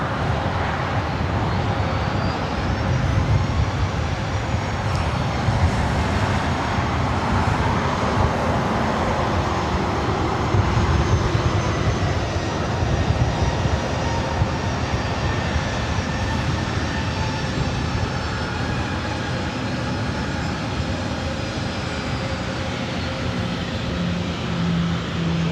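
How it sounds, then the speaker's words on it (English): A Southwest Airlines Boeing 737-700 arriving at LAX from Oakland, heard as a steady, loud jet roar that holds evenly throughout, with a faint whine running above the rumble. "Our next arrival is Southwest Airlines Flight 2651, coming from Oakland, California"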